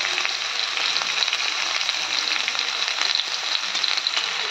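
Drumsticks and potatoes frying in a pan: a close, steady hiss of hot oil with crackling pops throughout, fairly loud and unbroken, no voices.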